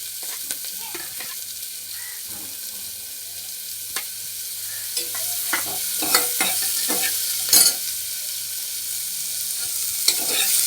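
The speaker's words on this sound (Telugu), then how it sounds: "ఆనియన్ బ్రౌన్ కలర్ వచ్చేంత వరకు కూడా బాగా వేగించుకోవాలి" Onions and chillies fry in a pan for a mutton soup, giving a steady close sizzle with scattered utensil scrapes and clicks, loudest toward the end.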